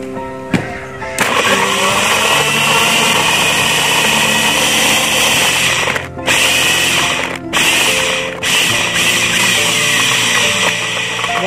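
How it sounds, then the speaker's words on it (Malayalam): A blender whirs loudly as it blends kiwi with ice and water, a harsh, steady motor roar with grinding chunks, briefly dipping in a few short pauses before surging again. "നമുക്ക് കിവി അടിക്കാം."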